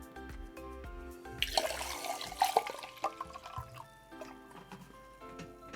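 Vinegar is poured over an eggshell in a container to soak, a steady splashing trickle that swells and then tapers off into small drips.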